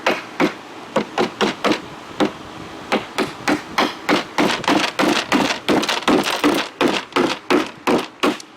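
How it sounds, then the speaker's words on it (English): A hammer drives a tight-fitting piece into a wooden dresser, about two dozen sharp, loud knocks in a steady rhythm, some in quick pairs, close by. "I'll probably have to hammer it in since it's a tight fit"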